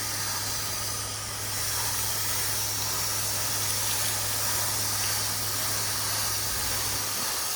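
Pressure washer rinsing the exterior of a house from top to bottom in circular motions, a steady loud hissing spray with a low motor hum underneath, continuous throughout.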